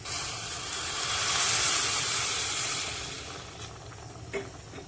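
Prawn, brinjal and potato curry boiling on a gas stove right after hot water is poured in, giving a loud steady hiss and seething bubble that swells, then eases with a few small pops near the end.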